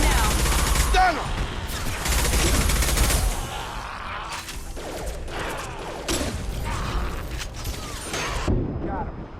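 Gunfire in the Mass Effect video game during combat, dense bursts of rapid shots and mechanical clatter in loud clusters, with voices speaking amid the firing.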